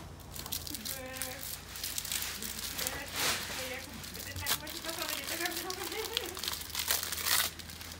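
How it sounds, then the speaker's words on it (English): A plastic bag wrapper being pulled off and crinkled near a badminton racket grip, with irregular close rustling and crackling throughout while people talk over it. "first, we take out the plastic bag"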